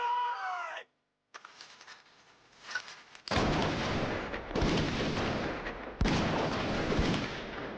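A farewell gunfire salute in a war film of the anti-Japanese resistance: after a brief hush, a few loud rifle volleys crack out in succession, each leaving a long rumbling echo.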